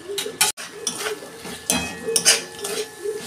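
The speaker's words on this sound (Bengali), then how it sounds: "আলুগুলো একটু নরম হয়ে গেছে, এবার টমেটোটা দিয়ে দিচ্ছি।" Tomato goes into a pan of softened potatoes while cooking ghugni, with metal spoon clinks, scrapes and clatter against the pan in short, uneven bursts.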